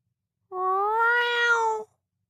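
A cat in a carrier gives a single plaintive meow, drawn out and rising then falling over about a second and a half, close and clear against silence.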